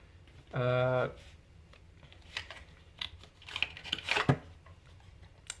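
A brief voice, then soft riffling and snapping as tarot cards are shuffled close by in quick, uneven bursts.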